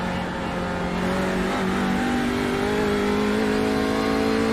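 TCR race car engine revving hard at the Nordschleife, a loud steady high-pitched drone that climbs steadily in pitch as it nears redline, close and continuous with no break.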